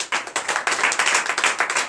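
A church congregation at a night deliverance and prophecy service in Comè, Benin, claps together in acclamation, steady rhythmic clapping filling the room for two seconds without pause.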